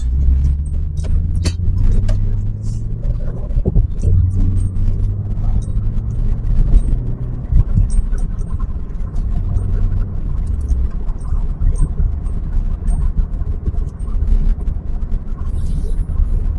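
Steady low engine drone and road rumble from inside a Peugeot 205 on a leisurely Sunday drive, continuous throughout with small rattles and jingles over it.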